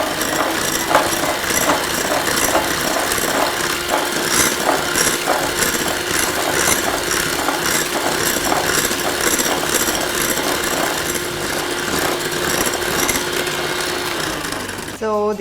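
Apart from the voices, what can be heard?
electric hand mixer beating eggs and sugar at maximum speed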